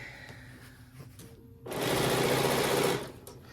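Sewing machine running a serpentine stitch through fabric on a holiday quilted panel, a steady loud whir rising after a short quiet pause, running about a second and a half before stopping.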